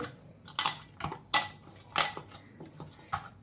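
Metal spoon or utensil clinking against a bowl while flour dough is mixed with ghee for honey sweets, a series of irregular sharp taps and scrapes, close and fairly loud with no talking.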